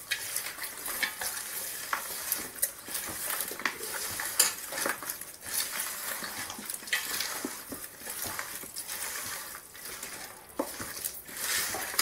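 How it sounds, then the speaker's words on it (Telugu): Chicken for biryani, coated in garam masala and chicken masala, is mixed by hand: a steady run of soft, wet squelches and small clicks, fairly quiet and close, with no talking. "ఇదంతా అయిన తర్వాత చేతితోటి బాగా కలపాలి"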